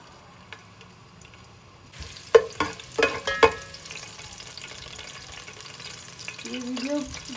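Garlic frying in oil until light pink, crackling and sizzling after a quiet start, with a few clattering stirs and a steady hiss continuing.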